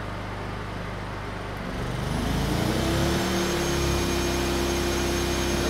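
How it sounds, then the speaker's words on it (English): A Honda EU2000i inverter generator hums steadily, then a loud shop vacuum powered by it starts up partway through and roars continuously on top of it, up close. "I'm going to turn the vacuum on, which is significantly louder than the generator,"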